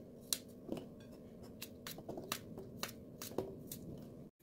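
A knife slices apples into small pieces on a board in sharp, irregular chops, about eight quick strikes with short pauses between them, close and fairly quiet.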